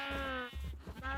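Sheep bleating around a shepherd building in a colony-building video game, a single drawn-out, wavering bleat followed by softer grunting bursts, close and clear with no talk.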